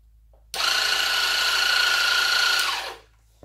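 A Dremel Moto-Saw starts abruptly and runs with a loud, steady high-pitched whine and buzzing for about two and a half seconds, then winds down and stops.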